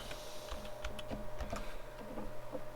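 Typing on a computer keyboard at a desk while planning a sleeper PC build in an eMachines case, a quick run of close, crisp key clicks over a steady background hum.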